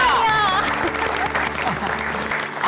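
Enthusiastic audience applause for two doctors at a health awareness game-show event, loud clapping with voices and a whistle-like tone over it.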